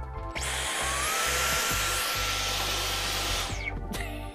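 Cordless stick vacuum cleaner running with a steady, loud motor whine that rises and holds, with a few short bumps and knocks as it moves, then cuts off near the end.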